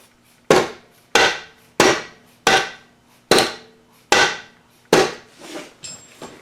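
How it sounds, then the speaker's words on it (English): A brand new dead blow hammer strikes seven times at a steady pace during the rebuild of a Thunderbolt A2-4M blower, each blow a sharp, close, thudding knock that dies away quickly, with nobody talking. "This is actually a brand new dead blow right here."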